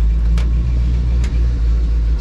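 Pickup truck engine idling with a slightly surging, uneven idle, a steady low rumble that swells and dips a little over a couple of seconds, close and fairly loud with no talking.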